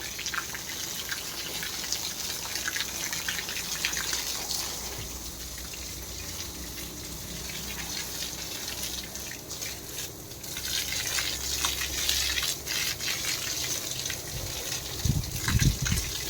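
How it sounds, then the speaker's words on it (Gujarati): Water is sprinkled and splashes outdoors as a continuous gushing hiss, with occasional splatters and a low rumble near the end. "પાણી છાંટવાનું ચાલુ છે"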